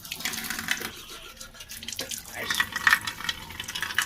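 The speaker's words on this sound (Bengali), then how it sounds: "চলো মুখ ধুয়ে নিই" Tap water runs into a sink while a face is washed, a steady splashing flow with irregular patters and drips close by, light voices briefly under it.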